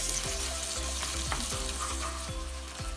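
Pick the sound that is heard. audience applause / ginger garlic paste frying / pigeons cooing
ginger garlic paste frying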